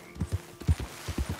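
Horse hooves clip-clopping at a steady walking rhythm in Red Dead Redemption 2, close and clear, with a soft whinny-like tone and no talking over it.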